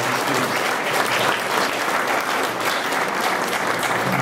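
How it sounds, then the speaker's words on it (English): Audience at a high school program of study night gives a long, even round of applause, dense and fairly loud from start to end, with no voices over it. "So I'd love a nice round of applause for Jim Michael."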